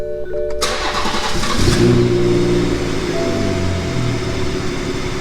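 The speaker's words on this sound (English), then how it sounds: "but turn on the car." A BMW F30 engine cranks and fires up, a loud close start surging into a brief rev before settling into a steady idle, with no talking.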